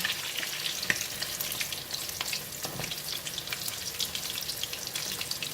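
Gulama fish with garlic fries in hot oil, a dense, close crackling sizzle with popping bursts running continuously and one sharper click early on; no talking.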